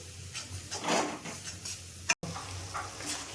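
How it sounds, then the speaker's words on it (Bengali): Spice paste for a Bengali village-style chicken curry with taro being sautéed in oil, a low sizzle with scraping and stirring strokes of a spoon in the pan, steady and close, with a brief cut near the end. "এবার আমি ভালো করে কষিয়ে নেব যতক্ষণ কষাবো যতক্ষণ না মশলা থেকে তেল ছাড়ছে"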